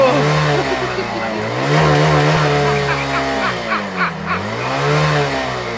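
Motorbike engine revving up and down loudly and close, its pitch sweeping and climbing, with voices shouting over it.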